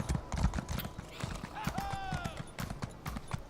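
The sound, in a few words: horse galloping in Elder Scrolls Online video game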